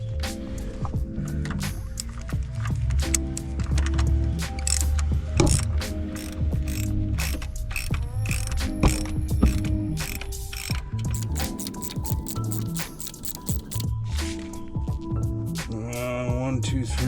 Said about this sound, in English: Get a socket on it.